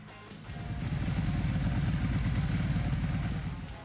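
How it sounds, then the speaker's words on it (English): A Ducati Hypermotard 1100 motorcycle engine running with a deep, throbbing, close rumble that swells after a moment and holds steady before easing slightly at the end, with no talking. "Number 3, Ducati Hypermotard 1100."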